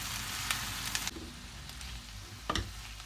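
Onions with red kapya and green peppers sautéing in a pan for beef kavurma, a steady soft sizzle close by with a few sharper crackles and stirring scrapes.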